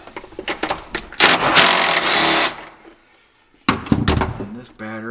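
A power tool whirs in a sustained burst while backing a bolt out of a Can-Am Maverick X3 battery mount, with clicks and clanks of handling around it, a short pause, then more metallic rattling.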